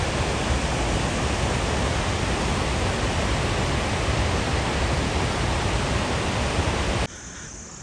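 A mountain stream on the trail to Kheerganga rushes in a loud, continuous broadband roar of flowing water, close and steady, then drops abruptly to a softer hiss near the end.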